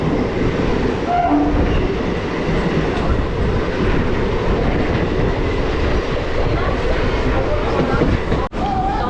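Passenger train running from Sealdah toward Mayapur, a steady loud rumble of wheels and carriage noise throughout, with faint voices in the background and a brief dip near the end.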